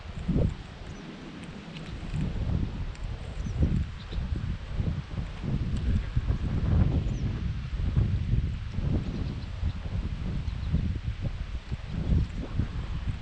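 Wind blows outdoors at a fishing spot, rumbling low and buffeting the microphone in uneven gusts for the whole stretch, with faint rustling above it.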